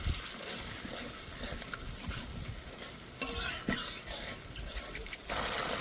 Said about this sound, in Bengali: এবার ভালো করে কষে নেব।